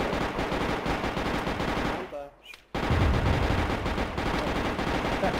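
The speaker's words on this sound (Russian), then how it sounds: "Ты еще не слышишь, что ПШ стреляет?" Rapid automatic submachine gun fire in the video game Arma 3: Iron Front rattles continuously, briefly cuts out, then resumes in a dense, loud stream of shots.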